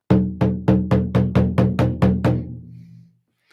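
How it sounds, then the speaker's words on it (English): A Tibetan temple drum is struck nine times in an even, steady rhythm, each beat deep and resonant, the final hits fading into a long decaying ring before silence. "the Tibetan temple drum,"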